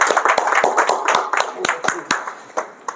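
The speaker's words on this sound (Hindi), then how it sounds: "तो एक बार ज़ोरदार ताली के साथ में डॉक्टर मूलचंद जी के लिए।" Clapping from an audience at a motivational speech honoring a doctor, a few sharp, uneven hand claps spread over several seconds, close and distinct.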